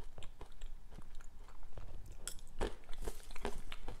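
Someone eats a raw coriander tofu salad with pan-roasted peanuts, giving close, irregular crunchy bites and moist chewing over several seconds, with no talking.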